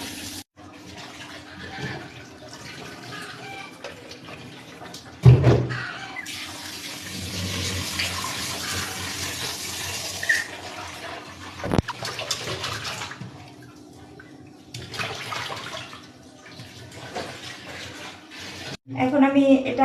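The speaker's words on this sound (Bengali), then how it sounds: "আমি এখন মাছ কুটে শেষ, এখন মাছগুলি ধুয়ে নিব ভালো করে" Tap water runs steadily into a sink while freshly cut fish is rinsed, with splashing, clatter and a few sharp knocks; a person talks over the washing throughout.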